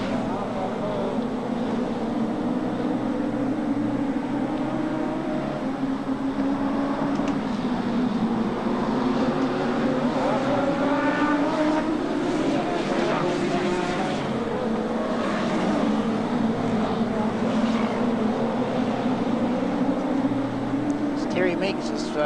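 Midget race cars circle a track at the 1987 New Zealand Midget Championships, a continuous loud engine roar with rising and falling pitch as cars pass, under a commentator's voice.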